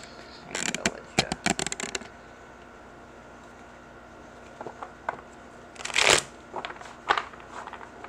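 Tarot cards are shuffled close up in two bursts of rapid papery riffling, with a quiet pause between them and no voices.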